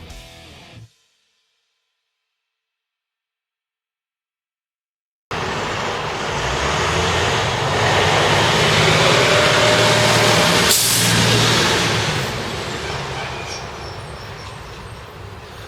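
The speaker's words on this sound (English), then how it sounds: "Waiting for loud cars to go by. Ugh. And buses." Loud cars and a bus roll past on a nearby road after a brief silence, a swelling roadway roar that peaks and then slowly fades.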